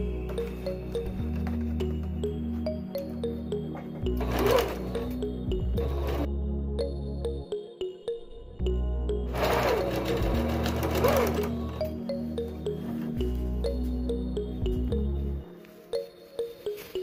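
A sewing machine stitches the overlapped ends of elastic on a satin-lined African print headwrap bonnet, running in two long steady bursts separated by brief pauses and a few clicks, close and clear.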